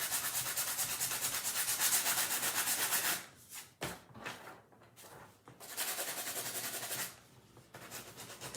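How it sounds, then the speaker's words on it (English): Brisk, steady rubbing strokes of a sanding block on paper along a crease, a dry rasping that runs for a few seconds, pauses, then resumes in shorter bursts. "and I will just sand right there on that crease."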